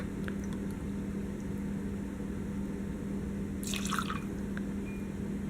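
Rye whisky is poured from a shot glass into a cup of ice, giving a brief splashing trickle and clink over a constant low kitchen hum.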